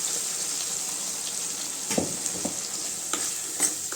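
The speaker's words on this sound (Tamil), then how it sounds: "அது வரைக்கும் வதக்கி விட்டுக்கலாம்." Onions, tomatoes and manathakkali berries sautéing in a pan for a kuzhambu, a soft continuous sizzle with a few scattered stirring scrapes, fairly quiet and close.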